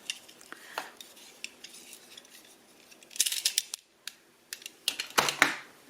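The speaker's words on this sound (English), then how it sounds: "So I'm going to use a Stanley knife." Sharp clicks and scratchy cuts from a rusty Stanley knife scoring card for a junk journal folder, scattered taps early on, then quick bursts of close scraping strokes with short pauses between them.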